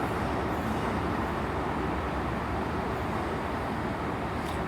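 Rumble of an HST train, power car 43161 leading and 43010 at the rear, pulling into a platform at Bristol Temple Meads, a steady broad roar held close and loud throughout with no talk.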